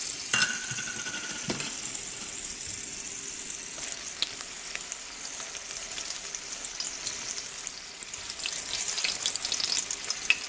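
Onion and garlic frying in hot oil for a spicy sesame chili salsa, a steady soft sizzle with a few sharper crackles, fairly close and quiet, with no talking.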